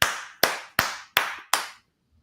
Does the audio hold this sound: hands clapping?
yes